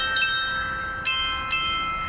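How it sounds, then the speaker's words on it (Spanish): Church bells in Madrid, near the Hotel Palace, ring for noon: three separate bright clangs with long ringing overtones over a steady low city hum, fairly distant and without speech. "Las campanas"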